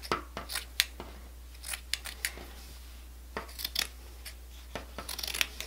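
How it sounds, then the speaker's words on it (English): Scissors snipping through monk's cloth for punch needle embroidery, a run of sharp, close, irregular clicks and cuts in a quiet room, with a pause midway before a faster cluster of snips. "now it's time to cut our monk's cloth"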